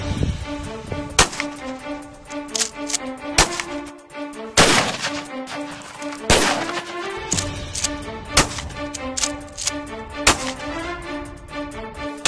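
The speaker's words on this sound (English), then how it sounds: "I just had to take a couple shots myself at the melons." Rifle and pistol gunshots, including a .338 Lapua, fired at melons on sticks outdoors, with loud sharp cracks at irregular intervals, some in quick pairs, over a steady background hum.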